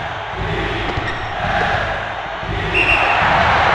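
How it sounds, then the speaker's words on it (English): Loud, continuous arena crowd roar in the basketball video game NCAA March Madness 2001, a dense wash of cheering that swells louder toward the end, with faint court thumps beneath. "With the crowd making this much noise, the offense was confused and turned the ball over"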